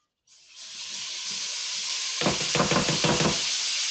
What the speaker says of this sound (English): dump in the shrimp, and y'all listen for what I'm trying to tell y'all about how this needs to sound when you throw this in this pan